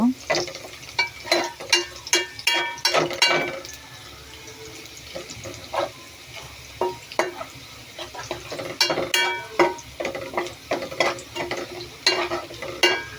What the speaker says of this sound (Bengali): এগুলো নাড়াচাড়া করতেছি হলুদ খাওয়ার জন্য।